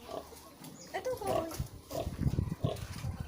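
A lone pig on an organic farm gives a few low grunts close by, mixed with people talking and some background noise.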